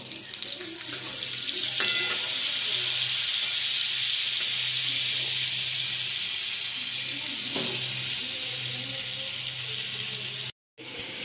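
Mushroom kathori fries in oil with a little butter, giving a steady, close, hissing sizzle that holds evenly throughout, with a brief clatter near the start and a short dropout near the end.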